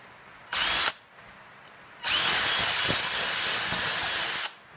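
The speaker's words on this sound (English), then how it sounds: "It might give those a bit of a drill out because it's rubber" Power drill boring through an old rubber tyre while making a seat: one short whirring burst, then a longer steady grinding run, close and loud.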